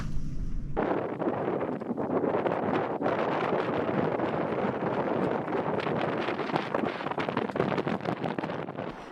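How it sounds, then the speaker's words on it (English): Strong wind blows by the ocean, buffeting a microphone with a dense, steady rumbling roar that sets in after a brief quiet moment and keeps gusting unevenly throughout, loud and close with no voices. "With the wind getting stronger and stronger, it was time to hunker down and rest"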